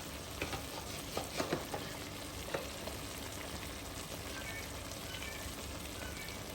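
Minced-meat keema with red chili and turmeric fries in a pan, giving a steady close sizzle with intermittent scraping clicks of stirring and a faint voice in the background.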